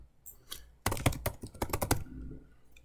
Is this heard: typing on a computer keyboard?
yes